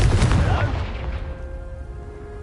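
A Confringo fire spell explodes in the video game Hogwarts Legacy: a single loud, booming blast at the start that rolls off into a fading, ringing tail.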